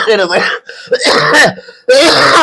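A man coughs and clears his throat in a few loud, close, rough bursts separated by short pauses.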